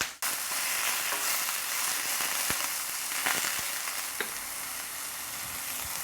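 Five garlic cloves fry in hot oil in a steady, loud sizzle with a few faint clicks and scrapes of stirring, and no voices.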